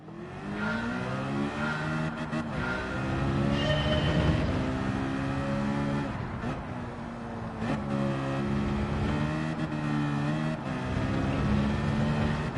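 In Gran Turismo 7, a race car's engine revs hard and climbs through the gears, loud and close, with smooth rising whines broken by brief shift gaps and no talking.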